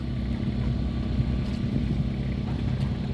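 The engine of a vehicle loaded with uprooted coconut trees rumbles loudly and steadily up close, a deep continuous drone with no break.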